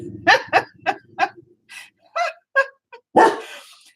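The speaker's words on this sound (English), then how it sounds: "Dog, quiet." A dog barks in a series of loud, sharp, close barks in an uneven rhythm, a few yips mixed in, with no talking.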